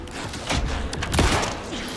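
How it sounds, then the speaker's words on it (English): Bursts of gunfire in the horror video game Alan Wake 2, loud and dense with repeated sharp shots and booms over roughly two seconds, no talk. "Anderson, pin him down with gunfire for me to get the light on"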